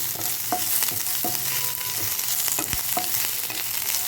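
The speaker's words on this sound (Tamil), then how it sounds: "கழுவி க்ளீன் பண்ணி வச்சுருக்கிற கருவேப்பிலை போட்டு நல்லா கொஞ்சம் நேரம் வறுத்துக்கணும்" Washed curry leaves fried in a pan for pulihora: a dense, even sizzle and crackle fills the whole stretch, with a few sharp clinks and scrapes of a spoon against the pan, close and steady.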